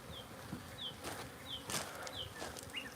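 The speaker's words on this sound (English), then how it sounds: "I will be feeding my bees today." Honeybees at a beehive in a garden by a greenhouse give off a faint, steady buzzing hum, with a few light chirps scattered on top.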